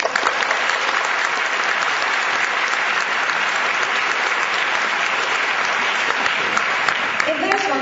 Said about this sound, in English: let us give ourselves a warm round of applause